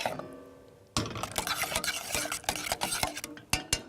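Strawberries with honey and vegan butter are stirred in a pan, a utensil scraping and clinking against the metal in quick irregular strokes over a soft sizzle, close and fairly quiet.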